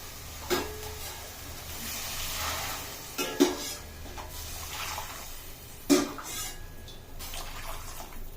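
Hot water is poured over rice in a pot, a steady close splashing wash with a few sharp knocks and clinks of a tumbler against the vessel.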